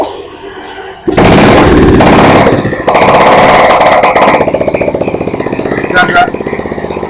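A Yamaha Jupiter Z motorcycle engine with a clutch problem starts up close and loud, settling into a harsh, rattling idle with a few revs and mechanical clatter, under occasional talk.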